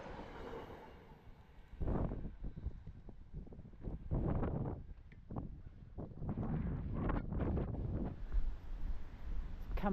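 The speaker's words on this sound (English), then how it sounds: "the wind is on my side at least" Wind buffets the microphone of a touring bicycle out in the Hungarian countryside along the Danube, producing gusty, uneven low rumbling and roaring that swells and fades throughout.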